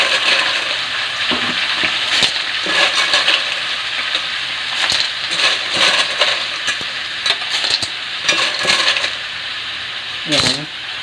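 Snails are tipped into a pan of frying onion, ginger and pork fat, giving a loud, close sizzle broken by clattering shell knocks and scraping stirs, with a brief voice near the end.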